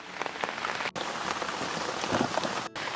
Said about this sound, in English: before this rain starts to get heavier again